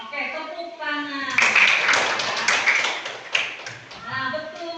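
Elementary school class clapping hands, a lively burst of applause rising after a teacher's voice and fading back into talk.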